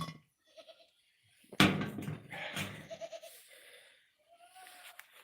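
A farm goat bleats several times: a loud wavering cry in the middle of the stretch, then a shorter call and a thin trailing bleat near the end, with rustling and quiet gaps around them.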